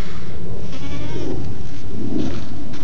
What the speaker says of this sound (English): Oh, you're a good goat.